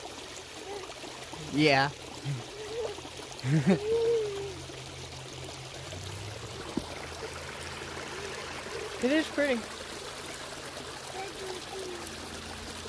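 A Missouri woodland stream trickles and flows steadily in the background, a constant soft watery wash throughout while people talk and a voice chirps over it.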